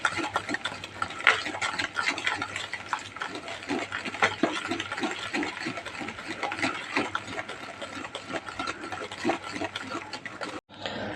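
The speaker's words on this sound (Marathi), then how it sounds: "क्रीमी टेक्स्चर येईपर्यंत चांगलं फेटून घ्यायचं आहे एकाच डायरेक्शनमध्ये" Chocolate batter being whisked steadily in one direction until creamy, a fast, continuous run of scraping strokes that stays close and even, then stops abruptly near the end.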